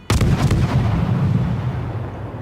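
Naval guns fire in World of Warships, one sharp loud blast followed by a long rolling boom that slowly fades, with a few rapid cracks at the start.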